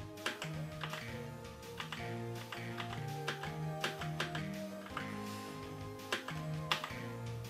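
Fingers tap the number keys along the top row of a computer keyboard, giving irregular clicks over steady tonal game music, without any talking.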